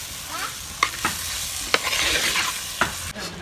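Chicken curry ingredients sauté in a pan, a steady close sizzle and frying hiss broken by several sharp scrapes and clacks of a stirring spoon, with no talking.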